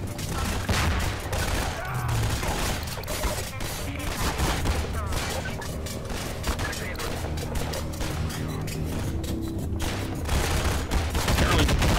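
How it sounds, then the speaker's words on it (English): Game gunfire in Half-Life 2 inside a mine, dense bursts of shots rattling repeatedly over a busy background, with someone speaking now and then. "I wasn't sure for a second if that was music or if it was just bullets"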